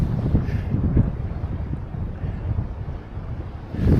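Steady wind buffeting the microphone while fly fishing from a river wade, a loud low rumbling roar that fills the whole clip with gusty swells and no speech.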